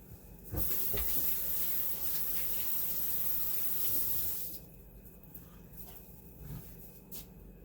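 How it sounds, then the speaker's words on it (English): Tap water running while hands are washed at a kitchen sink, a close steady rushing stream for about four seconds, then the flow stops, leaving faint clicks and handling sounds. "Wash my hands real quick."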